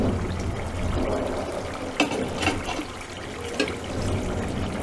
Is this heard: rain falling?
yes